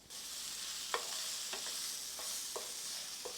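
Squash and zucchini sizzle and char in a hot pan, a steady close frying hiss broken by about five short scraping stirs.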